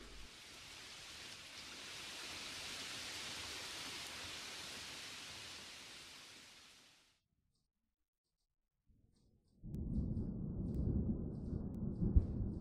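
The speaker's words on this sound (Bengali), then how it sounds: "এই বৃষ্টি কমলো, আবার মেঘ করছে দেখছি।" Rain used as a sound effect in a Bengali audio drama, a steady, even hiss of falling rain lasting several seconds before cutting to silence, followed by a louder rumbling passage.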